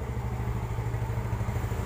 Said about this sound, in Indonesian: Ini motor hidup.